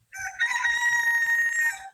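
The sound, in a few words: chickens clucking and crowing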